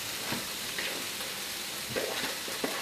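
Chicken and a spice mixture sizzle and crackle as they hit a pan over a layer of onions, a steady close frying hiss with light stirring scrapes.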